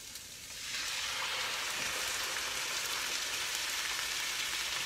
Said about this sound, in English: I'm going to add the 2 cups of diced tomato in here.